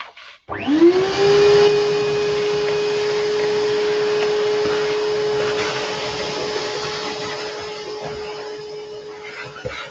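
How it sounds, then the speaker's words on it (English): A vacuum cleaner switched on to clear up a work area, its motor spinning up with a rising whine and then holding a loud, steady droning hum for the rest of the stretch. "I'm going to put my vacuum on and just clear up the area around here"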